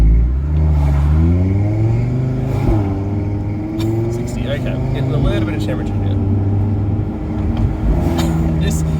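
An Audi RS3 engine pulls steadily with rising and falling harmonic tones through gear changes, loud and close, while people talk over it.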